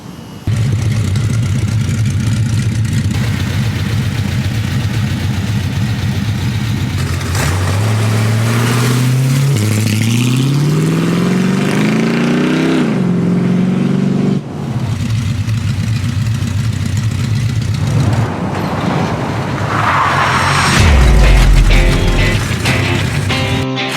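A lifted off-road truck engine idles and then revs up several times, loud and close, its pitch rising and falling with each throttle blip.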